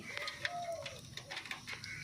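Domestic pigeons at a home coop, a Lakka and three desi pairs, coo softly nearby in a short, wavering call amid light clicks and scattered background noise.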